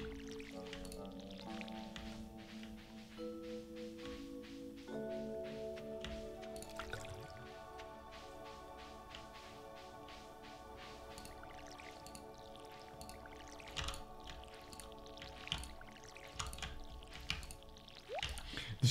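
A watering can in the video game Stardew Valley gives repeated soft dripping and splashing water sounds, scattered through the second half over looping game music, with no speech.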